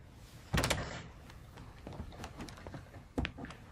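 AI-generated door opening from a bedroom, a sharp latch clack and thump followed by softer shuffling knocks and a second thud, close up with no voices.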